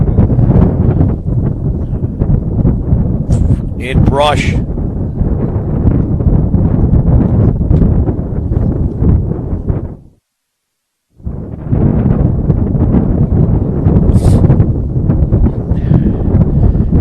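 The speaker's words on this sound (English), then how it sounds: "on an extremely windy and cold afternoon" Strong, cold wind buffets the microphone in loud, continuous gusts at a baseball game, with a brief quiet gap partway through.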